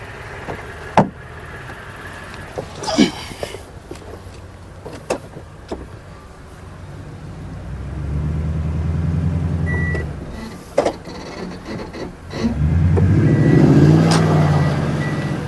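A 1962 Dodge Custom 880 rumbles as it begins to move, low engine drone swelling from about midway with a louder surge near the end, mixed with clunks and creaks; no talking.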